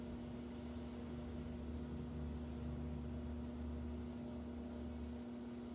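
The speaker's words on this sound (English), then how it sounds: "I'm going to put this in the microwave." A microwave oven heating a potato in a home kitchen gives off a steady low electrical hum with a constant tonal drone, quiet and unbroken for several seconds with no talk.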